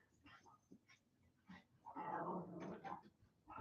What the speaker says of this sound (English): The dog next door is now barking.